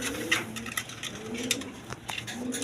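Pigeons kept for sale in a loft coo softly in low, repeated murmurs, with faint fluttering and shuffling around them.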